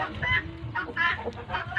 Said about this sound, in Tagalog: Ito naman yung mga upgraded nating native na manok